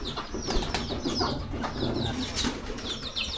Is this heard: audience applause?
no